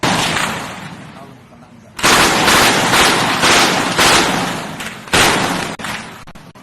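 Gunfire in an armed clash between rebel fighters and soldiers in a village in North Aceh: loud, rough bursts of shots and blasts fill nearly the whole stretch, with sharp restarts and no gaps, while voices are faintly mixed in.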